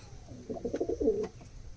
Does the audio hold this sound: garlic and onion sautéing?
no